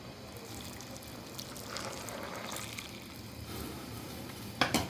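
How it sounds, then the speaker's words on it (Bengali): Hot water poured into softly boiled lentils for chotpoti, a steady close trickle and splash with faint stirring, ending in a few sharp clinks. "এখন এখানে আমি আগে থেকে করে রাখা গরম পানি দিয়ে দিচ্ছি।"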